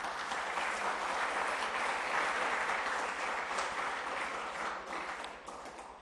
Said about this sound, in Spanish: También demos un fuerte aplauso a la doctora Ivonne, coordinadora de la DPU